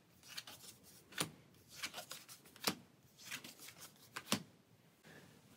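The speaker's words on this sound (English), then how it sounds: "for each of the market decks, they would be shuffled and you would reveal the top card of each" Board game market card decks from Star Wars Outer Rim being shuffled by hand, several crisp riffle bursts with sharp snaps at intervals, close and fairly quiet with no talk.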